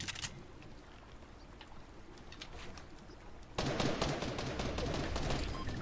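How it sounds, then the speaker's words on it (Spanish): Scattered distant pops give way to a sudden, louder stretch of rapid, continuous gunfire that carries on to the end, in the video game Fortnite. "ya escucho como que disparos"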